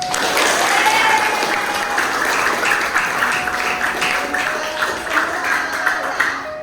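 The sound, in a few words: classroom students clapping hands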